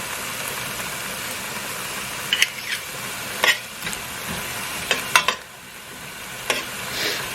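Onions and peppers sautéing in a pan for a sauce, a continuous close sizzle with a handful of sharp spatula scrapes and taps as the vegetables are moved around.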